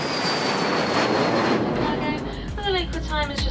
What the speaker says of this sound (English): just starting the initial part of our descent, landing in about 40 minutes from now